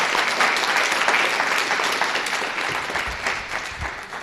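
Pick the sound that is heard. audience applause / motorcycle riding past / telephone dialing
audience applause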